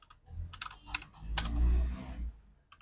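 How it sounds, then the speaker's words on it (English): A Linux command is typed on a computer keyboard in quick, clustered keystrokes, up close and moderately loud, with a few isolated taps trailing off at the end and no speech. "So you type in sudo"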